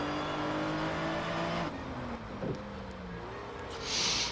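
Car transmission and engine whine from the racing game Test Drive Unlimited 2, a steady tonal drone that shifts pitch as the car accelerates, ending with a brief hissing burst.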